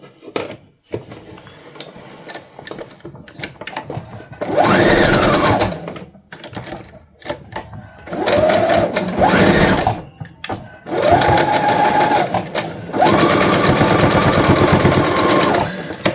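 A home sewing machine stitching fabric for a shopping bag holder runs in several bursts of steady whirring hum, separated by short pauses filled with clicks and handling clatter, loud and close with no talk.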